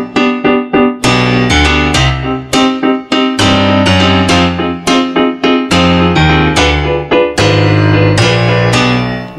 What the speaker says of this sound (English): a harder edged kind of compressed piano sound,